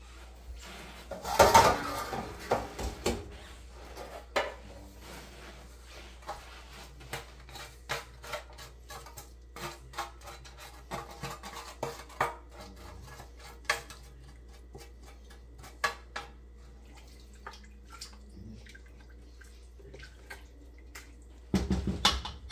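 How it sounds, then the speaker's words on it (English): Scattered clinks and scrapes of a utensil against a pan as turkey drippings are scraped into stock, quiet, irregular taps with longer pauses between them and a louder burst at the start and end. "I'm actually going to scrape it out, put it in here."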